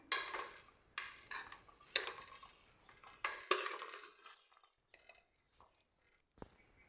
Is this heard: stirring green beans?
yes